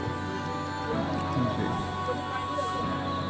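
Light rain falling at a Mahadev temple area in Sonprayag, a steady, even hiss of drops that fills the whole stretch without pause.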